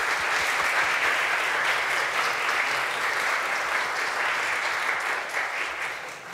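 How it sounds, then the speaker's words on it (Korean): A church congregation applauds to welcome visitors at a Sunday service, with dense, even clapping that holds loud for several seconds and then begins to fade. "박수 환영을 듣겠습니다."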